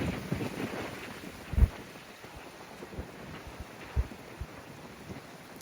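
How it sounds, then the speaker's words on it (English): Outdoor wind buffeting a microphone, producing a steady rough rumble with a few sharp low thumps from stronger gusts and no speech. "Thank you, wind."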